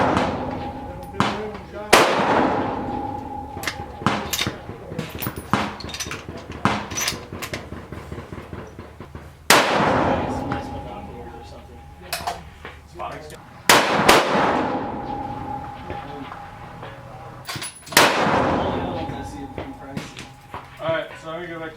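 Savage 10FCP .308 rifle with a McMillan stock firing 69-grain rounds at an outdoor range: a string of sharp, loud cracks, some ringing out with metallic reverberation, spaced irregularly a few seconds apart.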